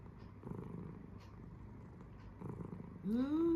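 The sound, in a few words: cat purring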